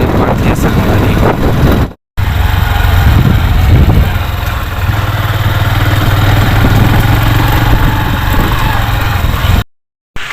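A parked motorbike idles close by at Ghatarani with a steady low engine rumble running throughout, buffeted by gusting wind noise, broken only by two brief dropouts.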